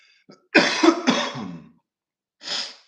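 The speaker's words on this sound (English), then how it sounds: "I hate when I cough." A person coughs in a short burst of two or three harsh coughs, then one more lighter cough after a pause, close by.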